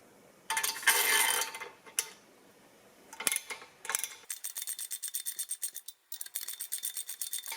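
A motorcycle swingarm bearing on an RZ350 is drawn in with 3/8-16 threaded rod and a nut, giving bursts of grinding, rasping metal friction followed by a rapid series of ratcheting clicks, close and fairly loud.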